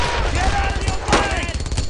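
A dense burst of gunfire from a World War II battle in Brothers in Arms: Earned in Blood rattles continuously, loud and close, with overlapping shots and battle noise throughout.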